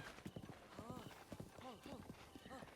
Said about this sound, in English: And we'll hop on our horse again.